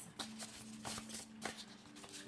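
Tarot cards shuffled by hand in a quiet room, giving soft repeated riffling bursts with brief pauses between them, close and fairly faint, with no talking.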